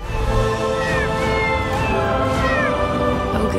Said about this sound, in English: Goose is Marvel's orange tabby stealing hearts in early trailers and sneak peeks online